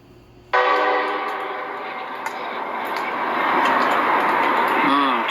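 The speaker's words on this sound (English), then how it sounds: "listen to how long the train keeps blaring its horn." A passing train's horn bursts in suddenly and blares loud and sustained for several seconds, its tone wavering slightly near the end over rumbling rail noise.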